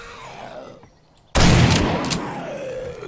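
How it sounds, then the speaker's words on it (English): Gunfire in the zombie survival game 7 Days to Die (War3zuk A19.5 mod) bursts in abruptly after a quiet stretch, a loud dense volley of shots that rings on for about two seconds. "Gunshots!"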